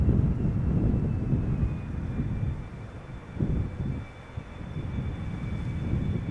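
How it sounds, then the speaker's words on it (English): KLM airliner PH-BVK arriving at Amsterdam Schiphol from Lima, Peru: a steady, broad engine roar and rumble from an approaching jet, continuous throughout with some wind buffeting on the microphone. "So this is the PHBVK arriving from Lima in Peru."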